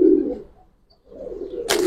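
A female pigeon coos close by in two short, low murmuring phrases separated by a brief pause, followed by a sudden burst of broadband rustle at the end.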